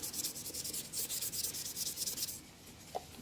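Sandpaper rubs against a wooden pen spinning on a lathe, a quiet, rhythmic scratchy hiss in quick repeated strokes that stops near the end.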